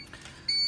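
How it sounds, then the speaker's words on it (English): A high, steady electronic beep from an eSpring water filter unit with its cartridge removed switches on partway through and holds without a break to the end, with faint background noise and no talking. "So once you take it off, it just starts beeping."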